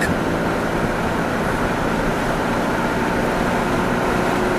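A heavy truck engine drones continuously while climbing a hill, under strong rumbling road and wind noise, a dense steady roar heard from inside the cab.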